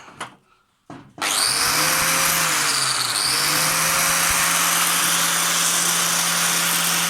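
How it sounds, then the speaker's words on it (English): Bench grinder spinning up with a short clunk, then a loud, steady whine and harsh grinding hiss as an aluminium alloy casing piece held in vice grips is pressed to the wheel, continuous and close. "put it in your bench grinder, hold your piece in your vice grips, turn on your bench grinder,"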